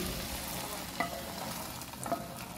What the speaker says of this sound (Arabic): هنضيفها على الشوربه على شوربه الفراخ والصلصه مع بعضين